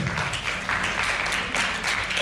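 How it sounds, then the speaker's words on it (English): Applause from a presentation audience for group members, dense steady clapping from many hands throughout, fairly close and continuous. "so give yourself an applause, guys"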